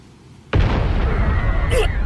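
A sudden loud explosion bursts out of quiet in the Bleach Rebirth of Souls video game. After the sharp blast comes a sustained rumbling roar with debris-like crackle.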